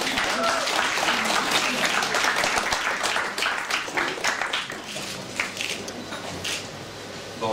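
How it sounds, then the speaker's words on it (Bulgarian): Audience applause for the patron of the Spirit of Burgas festival, a thick burst of many clapping hands that gradually thins and becomes more scattered toward the end. "И сега вашите аплодисменти за патрона на фестивала Димитър Николов."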